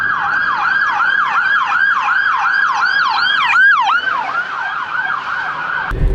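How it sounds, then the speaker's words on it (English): Emergency vehicle siren in Prague with an American-style wail, sweeping steadily up and down in a fast repeating cycle. It is loud and close, continuous for about six seconds before cutting off abruptly. "the sirens on emergency vehicles sound just like American sirens"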